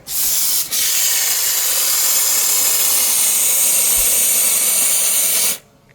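Spray adhesive gun purged onto plastic sheeting, a loud, steady pressurized hiss that starts at once, runs almost unbroken for about five seconds, and then cuts off sharply into quiet.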